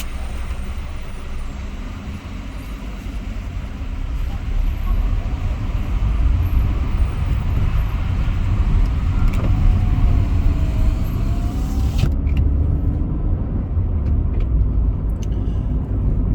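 A car drives along the road on a first trip toward Geneva in a neighbouring country, its engine and road rumble steady and fairly loud, swelling slightly midway with a brief higher tone near the end.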